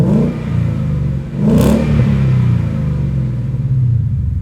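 A 2018-2023 Mustang GT with a MagnaFlow cat-back exhaust idling close by, a loud, deep steady rumble with a brief blip of revs partway through.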